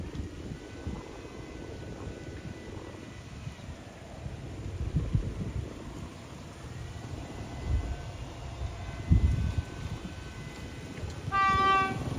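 A train hauled by an Alsthom 4130 locomotive rumbles along the Western Line in Thailand, low uneven rolling noise throughout, with a brief horn-like tone near the end.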